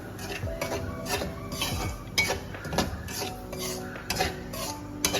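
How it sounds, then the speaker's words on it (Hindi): Semolina (sooji) roasting in a pan with little ghee while being stirred, the spoon scraping and clinking against the metal in an irregular rhythm, close and steady with no talking. "अब मैं सूजी भूनने लगी हूँ"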